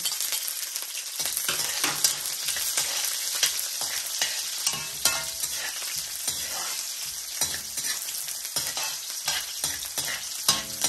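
Onion and garlic sauté in a hot pan for pancit miki, a steady loud sizzle with frequent scraping stirs throughout.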